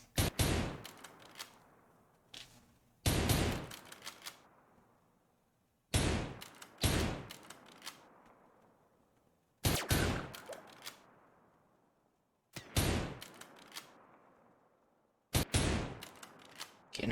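Shotgun blasts and gunfire in a game, six loud sharp bursts arriving every three seconds or so, each a cluster of close cracks with a decaying tail, no talking.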